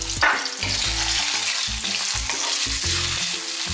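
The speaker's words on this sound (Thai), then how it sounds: "เอากุ้งลงก่อนละกันเดี๋ยวผัดแป๊บนึงให้กุ้งพอสุกนิดหน่อย" Shrimp stir-fry in hot oil in a wok, with a loud, close, hissing sizzle and a rhythmic run of scraping, clattering stirring strokes throughout; no talking.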